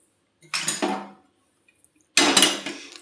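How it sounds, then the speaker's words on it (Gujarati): Cashew, almond and coconut pieces are stirred in a pan for sukhdi, with two bursts of metallic scraping and clattering separated by a quiet pause. "કાજુના કટકા નાખશું, બદામના કટકા નાખશું અને ટોપરું નાખીને એકદમ મિક્સ કરી લેશું।"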